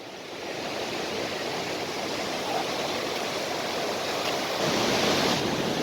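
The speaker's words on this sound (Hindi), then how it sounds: "एक नदी इस तरफ से आ रही है विष्णुप्रयाग में" Rushing water where two Himalayan rivers, the Alaknanda and Dhauliganga, meet at Vishnuprayag, a steady, dense roar of flowing river throughout, close and fairly loud with no talking.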